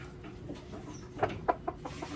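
A bullstag rooster, a large young fighting cock, gives a few short clucks near the middle, faint against low farmyard background noise.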